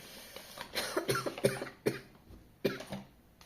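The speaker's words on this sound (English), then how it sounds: "I'm coughing." Several dry coughs in quick bursts, close and fairly quiet, with brief pauses between them and no talking.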